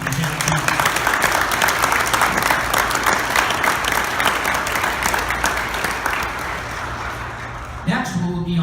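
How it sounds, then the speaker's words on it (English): Sustained applause from a crowd at a Yakima Police Department ceremony, loud and steady for about eight seconds before tapering off, with a voice beginning to speak near the end. "One more round of applause for Chance Belkin and Lieutenant Belkin."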